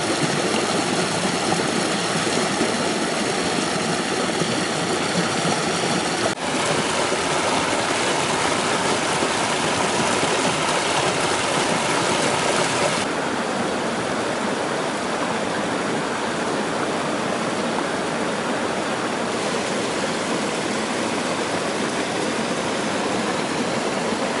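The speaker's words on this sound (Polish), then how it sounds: "No to się nazywa strumień, moi państwo." A mountain stream flows steadily with a loud, continuous broadband rush of water, close and constant throughout with no other sounds.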